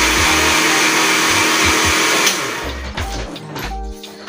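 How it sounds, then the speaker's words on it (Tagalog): A blender whirs loudly as it blends young coconut (buko) juice, its motor pulsing in short on-off bursts before the pitch shifts and the churning grows rougher and uneven. "Ang pagpipindot po mga guys ng ating pag-blender po ng ating buko"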